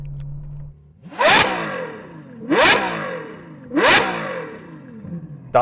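A Ferrari 812 V12 engine with a Novatec exhaust revs hard three times in succession, each sharp climb and fall separated by a brief idle, loud and close.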